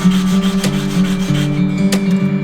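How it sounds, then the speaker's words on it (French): A sharpening stone slides back and forth along the edge of a cabinet scraper, guided by a 90-degree block, making a close, steady abrasive rubbing with a few distinct strokes and brief clicks, no talking. "On voit très nettement le passage de la pierre sur le champ."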